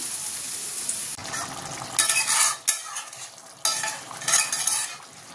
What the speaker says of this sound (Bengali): এই পটল আর আলু ভাজাটা বসিয়ে দিয়ে ওইগুলো কেটে নেব